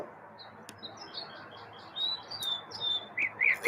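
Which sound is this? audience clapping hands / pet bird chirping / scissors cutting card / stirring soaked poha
pet bird chirping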